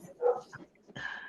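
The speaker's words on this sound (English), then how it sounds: "Sorry, my dogs are joining the conversation." Several dogs barking indoors during a call, a few short barks and yips, moderately close and fairly soft, with a louder burst near the end.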